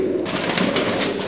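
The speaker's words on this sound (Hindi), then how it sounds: "बेहतरीन क्वालिटी के कबूतर हैं।" Blue Sajahapuri high-flyer pigeons cooing softly and continuously nearby, a low steady murmur with faint rustling over the whole stretch.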